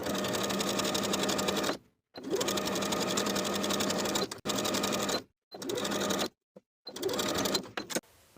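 A sewing machine sews binding onto a garment neckline in several bursts of steady, rapid stitching separated by short silent pauses, close and moderately loud with no talking.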